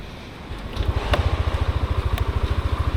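Yamaha Lexi scooter engine idling nearby with a steady low pulsing throb, rising after a brief start and continuing evenly; a faint click or two sits over it.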